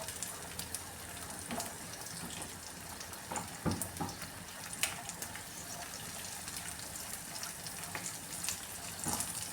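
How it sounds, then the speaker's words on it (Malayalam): Cashews and raisins frying in ghee in a pan while making carrot halwa, giving a soft, steady sizzle with occasional stirring clinks and scrapes, fairly quiet and without voices. "ഇനി ഈ ക്യാഷ്യൂ ഒക്കെ നെയ്യിലൊന്ന് വറുത്തെടുക്കാണ്"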